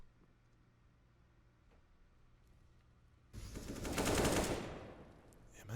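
Gunfire from Counter-Strike: Global Offensive sounds in a sudden loud, dense automatic burst that swells, then fades, after a quiet stretch with faint ticks.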